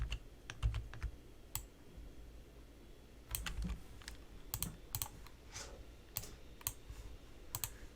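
Keys clatter on a computer keyboard during a ZEPETO Build It building session, with scattered clicks and short bursts of taps, some louder and closer, against a quiet room.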